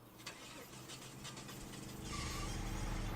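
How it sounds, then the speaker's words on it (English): Pickup truck in Farming Simulator 25 cranking and turning over with a struggling start, then settling into a steady, louder mid-pitched engine rumble close by. "God, that truck sounds like it's gonna not start one of these times."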